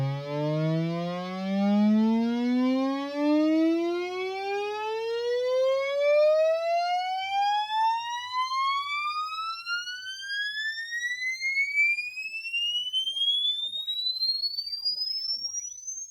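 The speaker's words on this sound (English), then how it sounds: "When the IR maker is sending out the sweep," A sine sweep from an impulse response maker played through a guitar amp, one long rising tone gliding smoothly from low bass up to a high pitch over about sixteen seconds, with strong harmonic overtones and no voices.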